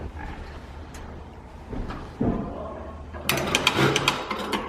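Brand-new Juki DDL-8000A industrial sewing machine stitching, quiet and intermittent at first, then a faster whirring run of needle strokes near the end, heard close with faint background noise.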